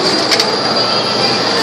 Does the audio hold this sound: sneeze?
no